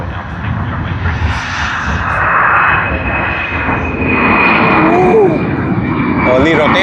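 An aircraft departs Sydney Airport's runway 34 left, its engines a loud, steady roar that holds and swells slightly throughout, with a faint whining tone above.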